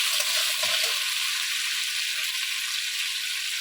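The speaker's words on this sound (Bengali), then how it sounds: "নুন দিয়ে একটু ভাজবো" Pieces of potato, papaya and eggplant sizzle in hot oil after salt goes in, a dense, steady crackling hiss close up with only a faint stir near the start and no talking.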